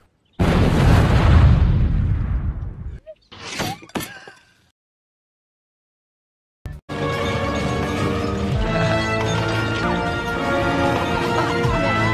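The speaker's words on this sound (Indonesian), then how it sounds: "Dan tiba-tiba alat pemanggang tersebut meledak." A barbecue grill exploding in the film Final Destination: a sudden loud blast whose roar decays over a few seconds, then a few sharp bursts, a silence, and music coming in.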